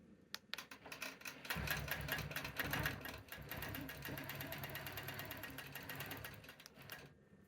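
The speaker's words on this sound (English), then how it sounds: "And then I'm going to hold my ruler with firm-ish pressure and start stitching." A longarm quilting machine stitches quilt binding along a ruler, a rapid, steady mechanical needle chatter that starts after a few clicks, runs for several seconds and then stops, heard up close and fairly quiet.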